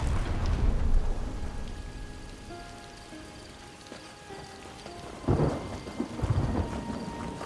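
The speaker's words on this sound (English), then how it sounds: "Time to bring the lightning!" Thunder rumbles through a rainstorm in Elder Scrolls Online, with a steady wash of rain, a deep roll early on and a sharper crack near the end, with no voices.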